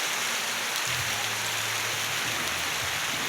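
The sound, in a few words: heavy rain falling in the forest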